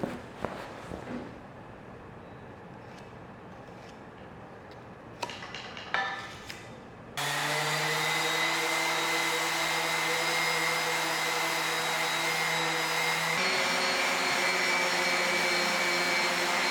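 Sanding dried mud smooth on a welded steel baby gate: soft scattered rustles and knocks, then a loud, steady motorized whir that takes over and runs continuously, shifting tone slightly near the end.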